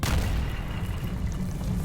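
World War II bomb detonating at a bridge construction site in Great Yarmouth, heard as a loud, sustained low rumble that fills the whole clip with no speech over it.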